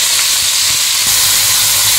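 Chopped vegetables for veg fried rice hit hot oil together, giving a loud, steady sizzling hiss that lasts the whole brief moment without speech.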